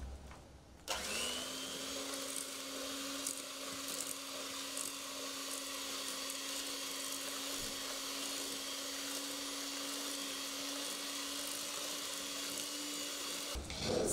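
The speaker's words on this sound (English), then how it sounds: "Then you start whisking this until it's fluffy" An electric mixer whisks margarine and sugar together until fluffy, a steady close motor whine with a constant pitch that runs unbroken for the whole stretch, starting abruptly and cutting off at the end, with no talking.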